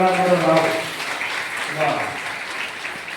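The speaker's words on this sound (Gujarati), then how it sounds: "જોરદાર તાળીઓના ગડગડાટ સાથે વાહ।" Loud audience applause at a Shrimad Bhagavat Katha gathering in Nani Daman, clapping swelling and fading over a few seconds, mixed with voices and a speaker talking over it.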